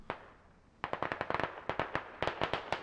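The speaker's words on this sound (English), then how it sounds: "And Russians shooting at the multi-story. Rounds are flying off the side of the building." Gunfire in the military shooter game Squad as Russian troops fire on a multi-story building: a single early crack, a brief lull, then a rapid irregular string of sharp distant-sounding shots.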